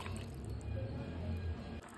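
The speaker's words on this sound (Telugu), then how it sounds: "ఇప్పుడు ఒక 2 గ్లాసుల వాటర్ యాడ్ చేద్దామండి." Two glasses of water poured into a pan of mixed vegetable curry with spices, salt and green chillies, a steady liquid splash and gurgle running close up for nearly two seconds before stopping.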